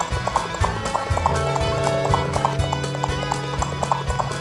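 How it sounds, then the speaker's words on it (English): Horse hooves clip-clop in a steady, repeated rhythm throughout, loud and close, with a faint whinny and a low droning background beneath the hoofbeats. "Ride hard, little horsey."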